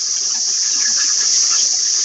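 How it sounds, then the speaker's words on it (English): Water trickling and flowing through gravel beds in a backyard aquaponics setup, a steady, close, continuous hiss and wash with no talk. "a couple of beds full of gravel through which water flows"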